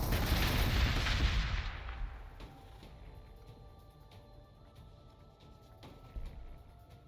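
A loud, heavy blast from an Onager Dunecrawler in Warhammer 40,000: Gladius opens the clip, then fades into a low, rumbling tail, with a few faint impacts and thuds following.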